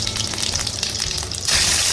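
Cumin seeds hitting hot oil in a wok, a close crackling sizzle that swells abruptly into a loud, steady hiss near the end.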